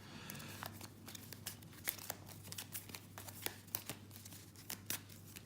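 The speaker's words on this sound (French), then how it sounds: "Alors, on va donc mélanger le deck rencontre." An encounter deck of cards from the Arkham Horror card game is shuffled by hand at a table, producing soft, rapid, irregular papery riffles and flicks over a low hum, with no talking.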